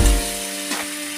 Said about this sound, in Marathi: आता आपण या कढईमध्ये थोडंसं तेल घातलेले त्याच्यामध्ये पनीर घालू